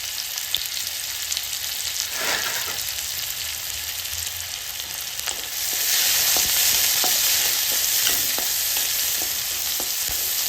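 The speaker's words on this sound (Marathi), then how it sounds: "एक मोठा कांदा बारीक चिरून टाकायचा आपल्याला तेलामध्ये" Finely chopped onion frying in oil in a pan, a constant close hissing sizzle with occasional stirring clicks and a jump in loudness partway through, with no voices.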